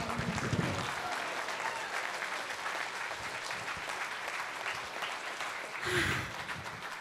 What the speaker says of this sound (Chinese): 大家再给毕耀远神父热情的掌声。